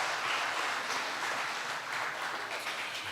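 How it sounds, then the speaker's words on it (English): Steady applause from the audience at the 2025 Choctaw Nation Princess Pageant, a dense wash of clapping filling a hall, moderately loud and unbroken throughout. "Let's give her a round of applause"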